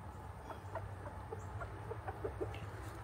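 Backyard chickens cluck softly in a scattered series of short calls, close by over a steady low hum, with no talk.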